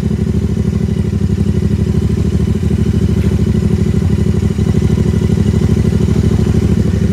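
A Royal Enfield Interceptor motorcycle idles steadily up close, its exhaust giving off a loud, even, rhythmic thumping that continues with no break and no voices.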